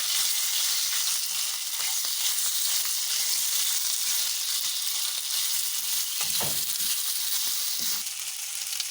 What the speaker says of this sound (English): My pan is hot. Now I'll put my beef. Cook the beef until it's golden brown.